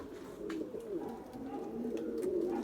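Soft, low pigeon cooing repeats in a quiet outdoor setting, faint and somewhat distant, with light background noise.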